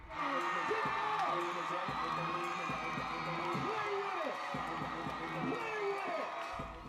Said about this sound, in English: He got a little teary-eyed as he got the rock star welcome from the crowd